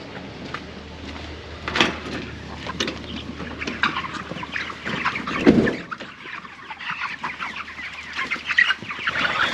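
Many broiler chickens cluck and murmur together inside a poultry house in cold weather, a busy overlapping chatter with occasional louder squawks and knocks.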